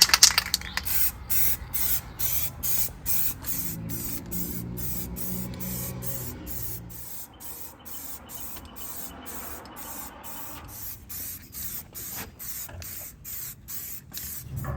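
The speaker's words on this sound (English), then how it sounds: "I'll try to at least get around the lettering with this clear coat." Aerosol spray of clear coat applied around lettering on building windows, close hissing bursts in rapid, evenly spaced pulses that continue throughout with little pause.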